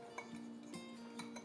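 A utensil clinks softly against a bowl while sugar and salt are mixed together, a few faint scattered taps over a quiet kitchen background.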